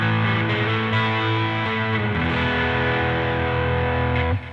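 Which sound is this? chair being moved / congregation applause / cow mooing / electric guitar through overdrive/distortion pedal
electric guitar through overdrive/distortion pedal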